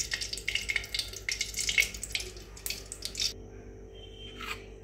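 Refined oil and a little ghee heating in a pan for paneer masala crackle and sizzle up close, with bursts of spattering and light clinks that thin out toward the end.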